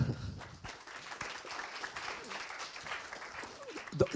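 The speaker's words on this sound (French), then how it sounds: "on peut les applaudir" An audience at an agricultural education event applauds at a low, steady level, a diffuse wash of clapping heard from a distance for several seconds.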